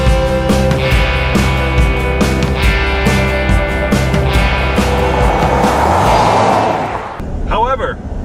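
A 2015 Ford F-150 with the 2.7L EcoBoost engine produces a loud, steady engine drone that is artificially boosted through the cabin speakers, and voices talk over it throughout.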